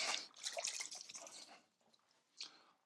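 Water splashes and drips while dyed canvas is rinsed, a fairly soft wet pouring that trickles off to scattered drips with one brief splash near the end.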